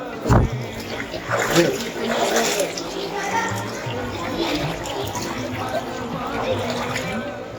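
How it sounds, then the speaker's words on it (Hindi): Mountain spring water pours and splashes steadily at the Gurdwara Panja Sahib shrine, a continuous close rushing wash with people talking over it throughout. "ये चश्मे का ऊपर से आ रहा है पानी, पहाड़ों से?"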